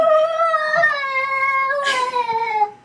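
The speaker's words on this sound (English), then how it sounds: "that's the cat saying no." A cat gives a long, drawn-out, loud meow that bends and wavers in pitch for nearly three seconds, close and alone.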